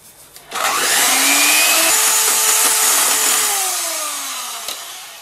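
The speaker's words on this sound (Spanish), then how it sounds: "conforme se va batiendo la mezcla, le pueden agregar un poquito de azúcar al gusto" Electric hand mixer whipping cream for a no-bake cheesecake, a steady loud whirring motor hum that starts abruptly and runs continuously with slight pitch shifts as the beaters work through the cream.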